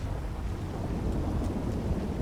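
Thunderstorm in GTA V: a dense, steady rumble of rain and low thunder fills the whole stretch, broad and continuous without distinct claps, no voices.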